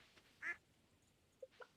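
A cartoonish duck quacks in a farming video game, one clear quack followed by two softer short quacks a second later, faint against a quiet background.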